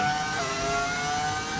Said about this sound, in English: Right now, nobody has the actual engine noise because this is actually a V10 engine.